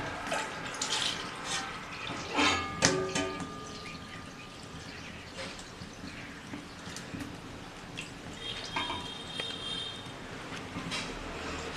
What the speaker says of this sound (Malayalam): ഇനി ആ ഉരുളിയിലേക്ക് പാലും ഒഴിക്കുകയാണ്.